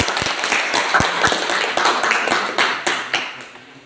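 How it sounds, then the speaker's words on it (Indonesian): Classroom audience at a teacher-training session claps for a student group: a loose run of sharp, uneven claps over a dense patter of hands, steady and fairly close for the whole stretch. "Tepuk tangan untuk kelompok 1."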